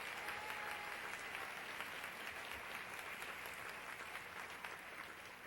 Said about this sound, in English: let's hear again a big round of applause